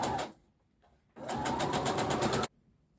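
A sewing machine stitches a sleeve on a Liberty London tiered dress, two runs of rapid, even needle chatter, a short burst then a longer steady one, separated by a quiet pause.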